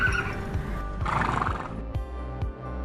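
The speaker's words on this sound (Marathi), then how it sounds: "कार्तिकी एकादशी नंतर इथं अगदी राष्ट्रीय स्तरावरचा घोडे बाजार भरतो" At a large horse market in Akluj, a horse gives a loud, close whinny while hooves clip-clop over a steady background of other horses.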